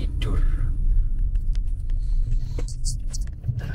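A Mazda CX-5 Kuro Edition rolls over a speed bump, heard from inside the cabin as a steady low road rumble with a couple of soft thumps, while someone talks over it.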